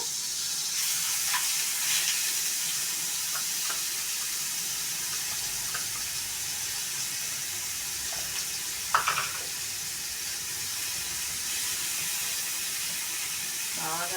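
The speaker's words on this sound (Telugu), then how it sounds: "రెండు స్పూన్లు ఉల్లిపాయ ముద్ద బాగా వేయించేస్తున్నాను నేను" Onion paste fries in a pan with a steady, moderately loud sizzle that runs throughout, joined by occasional light clinks and one brief louder scrape near the end.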